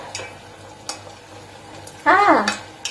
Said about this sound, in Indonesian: Sekarang kita bakalan goreng kentangnya.